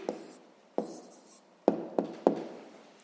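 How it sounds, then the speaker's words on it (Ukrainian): A math answer is written by hand with a pen on paper in several separate short bursts, each starting with a sharp tap and fading into a light scratch, close and quiet with no talking. "Ну що ж, записуємо тоді відповідь"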